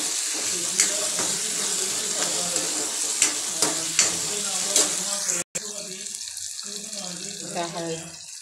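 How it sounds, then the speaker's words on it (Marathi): Tomatoes and onions frying in oil while being stirred, with steady sizzling and repeated scraping clicks of a utensil in the pan, plus a short gap near the end before the frying continues. "टमॅटोला चांगलं भाजून घ्यायचं आहे कांद्यामध्ये, आणि त्यामध्ये टमॅटोला चांगलं तेल सुटलं पाहिजे तोपर्यंत हलवत राहायचं आहे"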